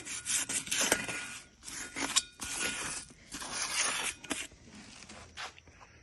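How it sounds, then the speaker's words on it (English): Sandpaper rubbing back and forth over rough primer on a tractor paint job, smoothing the coat in close, rhythmic scratchy strokes with short pauses between passes. "So just trying to smooth out a little bit of the roughness on the primer."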